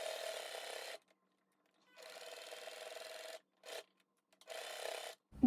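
Sewing machine stitching a bag made from a blazer runs in three bursts of steady whirring with short pauses between them, plus one brief burst, fairly quiet with no talking.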